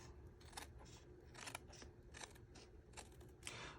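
Crisp scissor snips cut through paper in a handful of short, uneven bursts, close up and fairly quiet.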